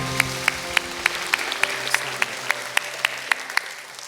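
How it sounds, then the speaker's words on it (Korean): A church congregation claps in steady unison rhythm, crisp evenly spaced claps about three per second over low sustained music tones that fade partway through. "하나님께 영광의 박수 올려드리겠습니다"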